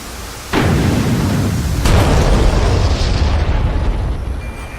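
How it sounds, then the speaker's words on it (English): Missile strikes on ground targets from an Su-25T in DCS World flight simulator: a heavy boom lands abruptly, then a second blast follows about a second later, both rolling into a long, loud rumbling tail that slowly fades. "Both missiles have struck the ground."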